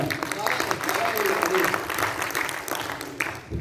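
Audience applause at a Hindi poetry recital (kavi sammelan), a steady patter of clapping lasting a few seconds, mixed with voices and room noise.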